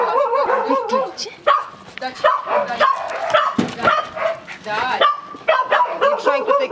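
A small foster dog barks and yips over and over in a busy indoor scene, its sharp, near calls mixing with overlapping human talk.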